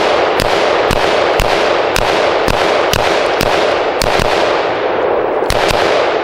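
Sharp gunshots from an AR-15 rifle with a polymer lower receiver crack out about a dozen times at an uneven pace over loud, steady background noise at a crowded shooting range.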